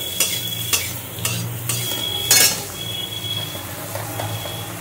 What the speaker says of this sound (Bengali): আমি এই উচ্ছের মধ্যে নুন দেবো না, শুধু হলুদ দেবো। দিয়ে একটু ভালো করেই ভেজে নেব।